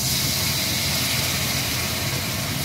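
Water poured onto a thickened cooking masala for karai paneer sets off a loud, steady, broadband sizzle and hiss that holds evenly for a few seconds with no voices.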